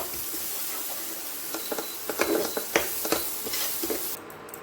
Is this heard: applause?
no